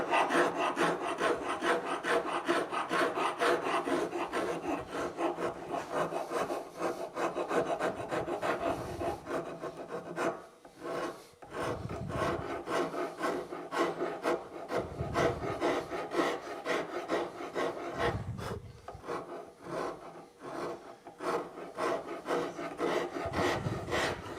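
A fine Nicholson number 50 rasp files a wooden table leg by hand, giving a steady, close rasping rub in long continuous strokes with a few brief pauses.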